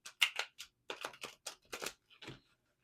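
Tarot cards being shuffled by hand for a weekly reading, heard as a run of quick, close riffling and flicking bursts in an irregular rhythm, with no talk over them.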